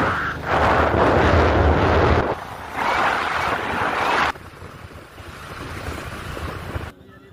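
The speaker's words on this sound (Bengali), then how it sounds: "নৌকা ভ্রমণ" Wind and rushing water during a river boat ride on a picnic outing, a loud, continuous roar of wind buffeting the microphone that eases and surges in stretches.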